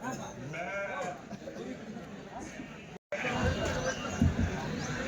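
Sheep at a busy weekly livestock market in Kadiri bleat among the crowd, their wavering cries rising over steady chatter and nearby talk, with a brief cut in the middle.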